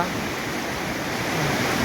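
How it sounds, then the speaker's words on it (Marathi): A large waterfall roars steadily at close range, a dense, continuous rush of falling water that fills the whole clip without a break. "खूप मोठा असा धबधबा आहे"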